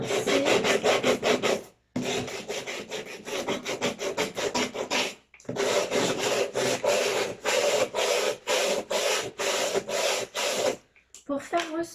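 Sandpaper rasps steadily over a painted wooden slate-hook box in long back-and-forth strokes, loud and close, with two brief pauses between runs.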